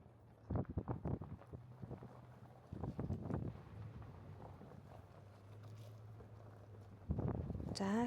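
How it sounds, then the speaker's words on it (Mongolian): Strong wind during a dusty spring sandstorm in the mountains near a temple: gusty buffeting bursts against the microphone come and go over a low steady rumble, loud and close. "Маш их салхитай, шороон шуургатай,"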